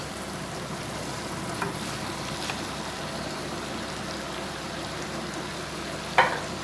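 Vegetables frying in masala in a pan for qeema spaghetti, a continuous close sizzling hiss with occasional light clinks and a sharper scrape near the end.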